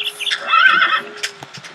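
A horse from the Minecraft Mo' Creatures mod gives a single close, loud neigh, a rising and wavering whinny lasting about a second, followed by a few soft clopping sounds.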